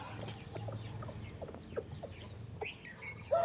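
A rooster makes soft, low clucking calls to hens among scattered hen clucks and rustling, fairly quiet and close.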